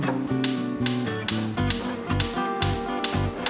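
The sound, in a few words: gas stove igniter sparking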